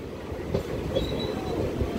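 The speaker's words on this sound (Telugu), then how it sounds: "సో పండేకల్ జంక్షన్ నుండి అయితే మన ట్రైన్ అయితే బయలుదేరిపోయింది." A DEMU passenger train pulls out of Pendekallu junction, heard from on board as a steady rumble of wheels on rails with a thin metallic squeal and faint clicks, close and continuous.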